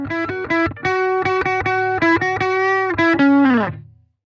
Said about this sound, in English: This creates a pretty solid, driven amp sound.